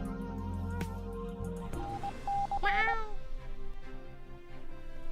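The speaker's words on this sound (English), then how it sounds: "Isn't this cat so lovely?" A cat meows in a few drawn-out, rising and falling cries, close and fairly clear, over a low background hum.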